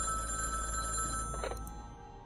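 An old telephone bell rings in The Dream Machine game, a sustained metallic trill heard close and clear that cuts off about halfway through, leaving a brief softer tail.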